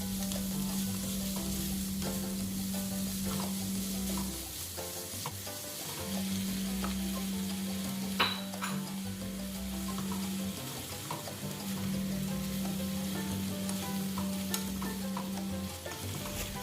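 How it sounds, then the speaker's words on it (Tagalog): Ground pork and squash being stirred in a frying pan, a spatula scraping steadily over a constant sizzle, with a low hum pulsing on and off in the background and no talking. "Haluin natin itong mabuti"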